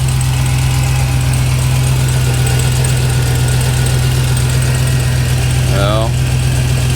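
A Hellcat engine swapped into a RAM 1500 pickup, fitted with headers, idles after its first start with a loud, steady, close rumble. A short voice-like sweep rises near the end.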